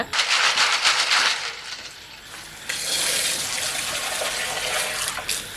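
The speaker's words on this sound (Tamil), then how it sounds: "இப்போ வந்து இந்த பைப்பு தண்ணியை பிடிச்சி இப்போ அலசிட்டு வந்து" Tap water runs loudly and steadily while snails are rinsed under it, the gushing stream shifting in tone and briefly quieting midway before splashing again.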